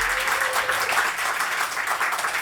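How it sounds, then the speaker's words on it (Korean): A church congregation claps together in a short, steady burst of applause that fills the room, continuous and fairly loud, with no break for the whole moment. "축복의 박수 한번 쳐드립시다"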